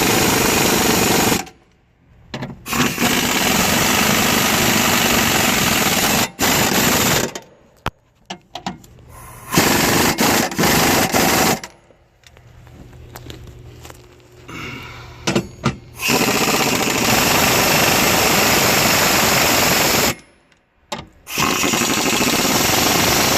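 A power tool cuts threads into the holes of a 2018 Shelby GT350 R car panel, running in loud, buzzing bursts of several seconds each, separated by short silent pauses.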